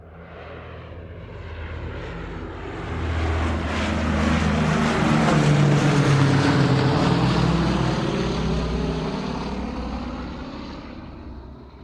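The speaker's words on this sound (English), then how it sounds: "Let's get back on the plane from Perth to Melbourne." A propeller aircraft drones past, its engine noise swelling to a broad steady roar midway and then easing off slightly, with no voices.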